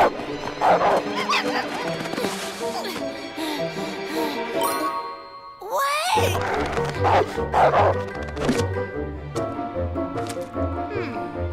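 A dog named Rex barking and yipping repeatedly in quick bursts, mixed with jingling music and people speaking over it.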